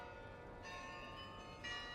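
Church bells toll in Gloucester, a faint sustained ringing with a new stroke about every second, distant and soft over a steady hiss.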